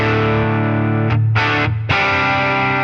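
An electric guitar runs through a Line 6 Helix amp model with EQ applied: high and low cuts plus a slight low-mid shaping. Thick, distorted chords ring loud and close, broken by two brief gaps before sustaining again.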